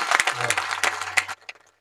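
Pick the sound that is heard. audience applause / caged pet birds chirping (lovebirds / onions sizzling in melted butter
audience applause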